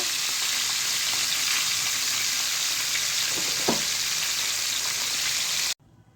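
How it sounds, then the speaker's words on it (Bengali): Puti fish fry in hot oil with a dense, even crackling sizzle close by and a single soft clink, before cutting off abruptly. "একটু লাল লাল করে ভেজে নেব"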